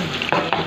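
Onions sizzle steadily in a hot pan, a close, loud frying hiss with a couple of brief stirring scrapes.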